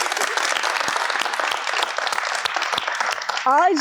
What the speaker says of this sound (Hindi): तालियां अपने लिए